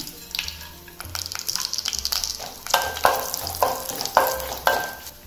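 Mustard seeds, cumin, dried chillies and cashews crackle and fry in hot oil for a festival rice offering, with bursts of sizzling and stirring scrapes of a spoon against the pan, close and fairly quiet.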